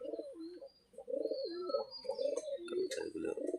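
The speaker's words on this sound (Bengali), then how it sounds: "সকাল সকালে এখানে কবুতর ডিমে বসে আছে।" Pigeons brooding on eggs at a duck and chicken farm in the morning coo in close, rolling, repeated phrases, with a brief lull near the start and faint chirps overhead.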